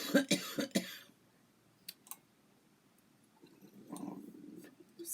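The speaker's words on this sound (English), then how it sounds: "See, I cough." A few short, sharp coughs close to the mic in a quiet indoor room, clustered at the start, then soft clicks and faint room noise with no talking.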